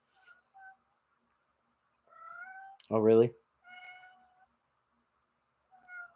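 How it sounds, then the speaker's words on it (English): A cat meows several times, short high-pitched calls spread across the stretch, with one louder, longer meow in the middle. A person speaks briefly between the calls. "Guess it's time to feed my cat again."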